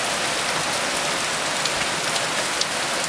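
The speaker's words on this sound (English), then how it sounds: "Now do the rain." Artificial rain poured on a film set makes a steady, loud hiss of water drumming on surfaces, continuous and close for the short stretch.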